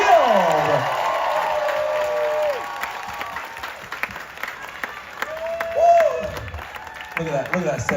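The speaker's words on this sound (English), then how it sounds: "Big round of applause as we welcome out the one and only John Hill!" Audience applause and cheering greet a speaker walking on stage at a Carnival cruise event. A loud, energetic wash of clapping carries on throughout, under a presenter's excited voice and bright music.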